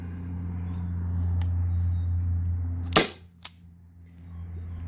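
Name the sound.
Byrna SD CO2 launcher firing aluminum round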